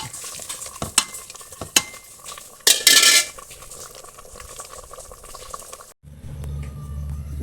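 Beef fry with onion, green chilli, ginger and curry leaves is stirred in a pan: sharp utensil clacks against the metal and a burst of scraping over a low sizzle, then the sizzle turns duller and steadier near the end.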